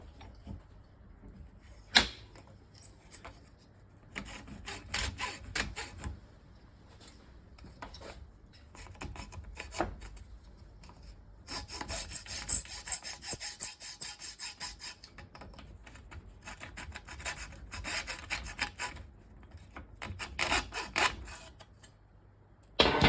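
A hand saw cutting through material held in a vise, heard as bursts of quiet rasping strokes separated by pauses, with one louder run of rapid strokes midway, close and dry.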